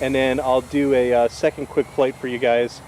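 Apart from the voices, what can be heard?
No everyday noise stands out behind the speech.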